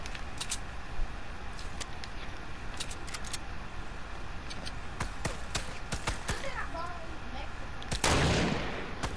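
Video game gunfire crackles as sharp, scattered shots, some in quick bursts, over a steady noisy backdrop, with a louder blast near the end while players talk over it.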